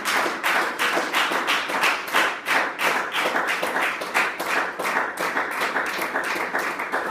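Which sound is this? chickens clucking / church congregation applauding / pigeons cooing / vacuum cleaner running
church congregation applauding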